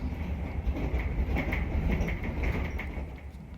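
Intercity passenger train in motion, heard from on board: a continuous low rumble with rhythmic clattering and a faint metallic whine, steady and fairly loud throughout, with no talking.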